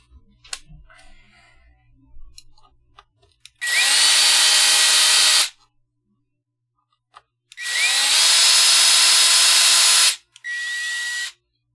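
A few faint handling clicks, then three loud bursts of a power drill whirring as it removes a screw from a guitar, each a few seconds long with quiet pauses between.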